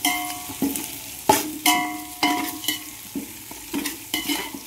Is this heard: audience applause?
no